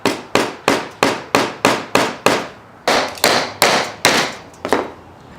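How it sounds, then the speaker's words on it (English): A hammer drives little tacking nails through old shirt fabric into scrap wood, close up, with about fifteen sharp, evenly spaced knocks, a short pause, then several more. "Just tack it in with some little tacking nails."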